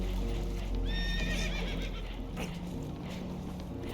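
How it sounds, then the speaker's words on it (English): Spooked horses in the video game Red Dead Redemption 2 give a loud, close whinny and neighs, with clip-clop hooves and rumbling wagon or boat noise running steadily underneath. "Horses are spooked"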